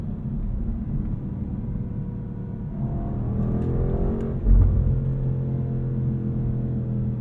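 A 2023 BMW M850i Gran Coupe's engine drones deep and steady from inside the cabin, then swells into a heavier rumble as it accelerates, with a thump partway through, and no one speaking.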